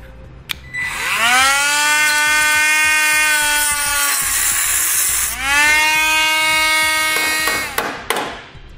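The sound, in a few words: power tool cutting off a steel stud on a 2018 Jeep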